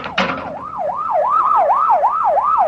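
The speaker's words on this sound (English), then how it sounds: "better get that ambulance out here fast" An ambulance siren wails in a radio drama, rising and falling in a steady, repeating cycle that grows loud and close, preceded by a brief burst of engine or traffic noise.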